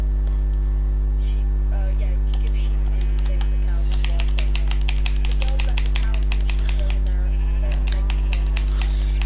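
Sheep in the Minecraft video game bleating several times in short game-sound calls among clicks and taps, over a steady low hum, with a person talking throughout.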